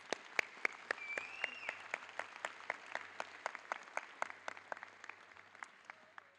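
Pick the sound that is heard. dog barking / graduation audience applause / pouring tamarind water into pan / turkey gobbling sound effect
graduation audience applause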